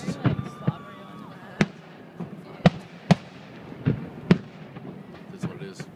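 Canada Day fireworks pop and crack in a series of sharp bursts, some distant and some nearer, with people talking over them.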